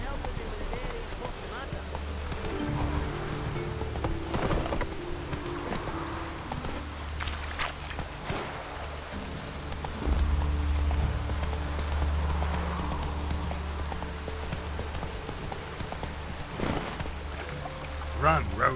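Hoofbeats of the horse Roach galloping in the rain in The Witcher 3, a steady rhythmic clip-clop over rain and music, with a voice speaking at times.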